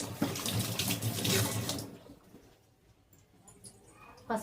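Tap water runs over chillies and beetroot in a home kitchen, a splashing stream that stops partway through, leaving quiet handling noises and a brief splash at the end.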